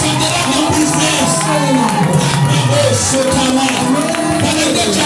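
A church congregation acclaims and cheers in a loud, continuous crowd roar of overlapping shouts and whoops, with voices rising and falling throughout.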